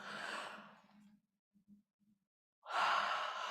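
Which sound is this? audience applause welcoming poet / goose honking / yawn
yawn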